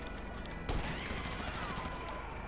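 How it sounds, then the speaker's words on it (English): Gunfire in a video game aimed at a car's gas tank: a burst of rapid shots cracks out amid ongoing game noise, followed by a lingering rumble and clatter. "Let me see if I can just shoot a gas tank."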